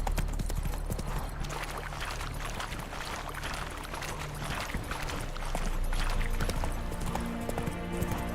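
Roach, a horse in a video game, gallops with a fast, continuous clip-clop of hooves, loud and close throughout.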